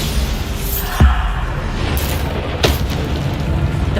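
A Bombarda spell explosion in Hogwarts Legacy lands as a sharp boom near one second, followed by a second blast later, set over a steady wash of game background sound.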